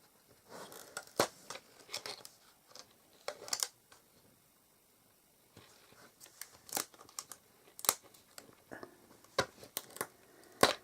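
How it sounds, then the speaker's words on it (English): A tape runner being run along paper for a craft stocking, giving short crisp clicks and scratchy bursts in irregular clusters with pauses between, close and moderately loud, no talking. "So I'm just running my tape."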